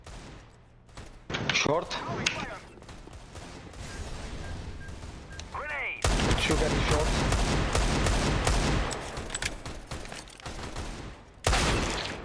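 Rapid bursts of automatic gunfire and single shots in a CS:GO match, loud and dense through most of the stretch, with a player talking over the shooting.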